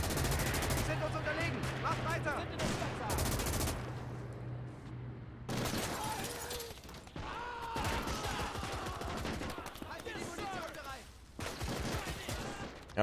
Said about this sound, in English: Ooh, MG 34 there.